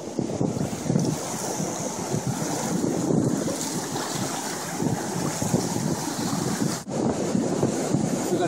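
Ocean surf on a beach while fishing, a loud steady wash of breaking waves mixed with heavy wind buffeting the microphone, continuous throughout without talk.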